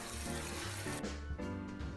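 Water draining from boiled potatoes in a kitchen sink, a steady wash of running, splashing water with a brief clank partway through.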